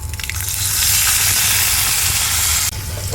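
Green chilli, asafoetida and curry leaves hit hot oil with mustard seeds for an ash gourd curry tempering, giving a loud, steady, close sizzle that crackles briefly at the start and cuts off sharply near the end.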